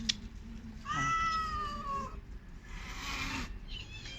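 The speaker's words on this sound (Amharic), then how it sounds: "ደግሞ የድመት መዓት ነው።" Several cats at a home meow: a long, clear, drawn-out meow rising then falling, followed by a shorter, breathier cry and a brief final mew, close and fairly loud over quiet background.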